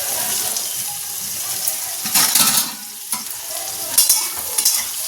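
Soya chunks fry in a pan with salt and turmeric, giving a bright steady sizzle broken by a few louder bursts of stirring and scraping, close and with no one speaking.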